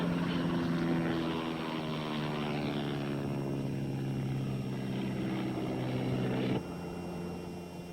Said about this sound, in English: you go through this every time Steve gives her a flying lesson